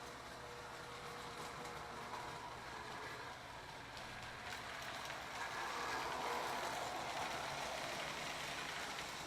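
A reconditioned Lionel O gauge model train runs on a 5x8 double reverse layout, giving a steady, faint rolling rumble and hum that swells slightly midway and continues alone without talk.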